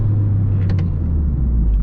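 A 2008 Honda Civic Mugen Si on the move, a steady low engine and road rumble heard from inside the cabin, constant and fairly loud with a brief faint chirp partway through.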